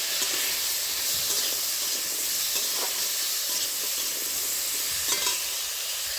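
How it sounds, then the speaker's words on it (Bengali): Tamarind pieces go into hot mustard oil tempered with panch phoron, producing a soft, even sizzle and hiss with occasional stirring clicks, fairly quiet and without speech. "এবার আমি কেটে রাখা তেঁতুলটা দিয়ে দিচ্ছি।"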